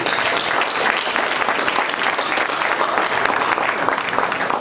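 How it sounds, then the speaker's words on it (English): A dense, loud wash of audience applause fills an evening event just after a dance company performance, sustained and steady throughout with no one speaking over it. "Maybe another round of applause."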